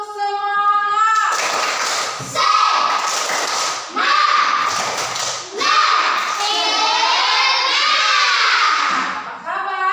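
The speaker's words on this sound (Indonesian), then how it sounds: "coba kita tepuk semangat dulu. Tepuk semangat." A group of children in a morning class loudly chants a spirit clap routine together, voices in unison with rhythmic claps and taps mixed in, continuing for several seconds.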